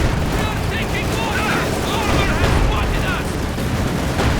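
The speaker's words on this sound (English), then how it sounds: "Anti-tank going off there" Anti-tank guns fire amid dense, continuous battle noise in the World War II strategy game Company of Heroes 2, with loud booms and rumbling throughout.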